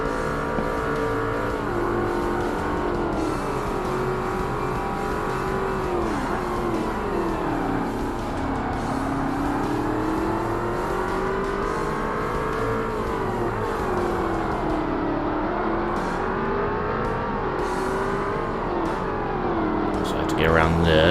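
Race car engines in Forza Motorsport during a Class S endurance championship race, a continuous loud engine drone whose pitch rises and falls with throttle and gear changes, without pause for about twenty seconds.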